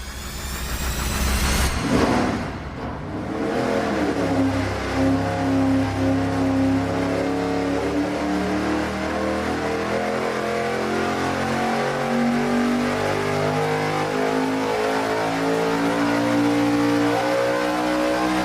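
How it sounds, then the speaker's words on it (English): A car engine on a dyno making its first bank-to-bank pull, loud and close: it revs up sharply, then holds a long, rising, sustained roar with steady harmonics and no talking. "Our first run on this engine is going to be bank-to-bank."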